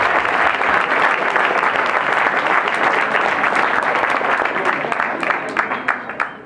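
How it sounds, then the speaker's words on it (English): Loud, close applause fills a room at a football press conference, sustained clapping that thins toward the end into a few scattered individual claps. "Big round of applause for the first edition of Extreme Football right here in Canada."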